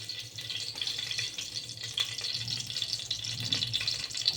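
Mustard seeds crackle and splutter in hot oil for a few seconds, giving sparse, light pops over a low, steady sizzle.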